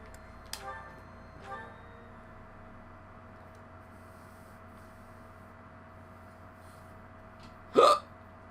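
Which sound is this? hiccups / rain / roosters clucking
hiccups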